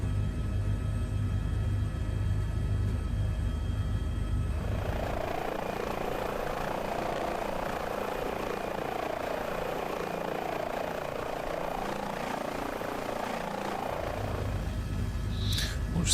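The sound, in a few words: H145 helicopter flying in Microsoft Flight Simulator video game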